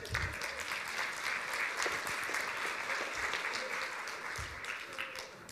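An audience gives steady, dense applause for Andrej at a talk, with the clapping continuing evenly throughout and faint voices underneath.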